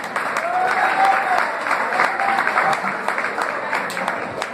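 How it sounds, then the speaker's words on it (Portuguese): An audience applauds to welcome a singer on stage at a music event, with clear, lively clapping that swells and then thins out, while voices are heard over it. "Vamos aplaudi-la."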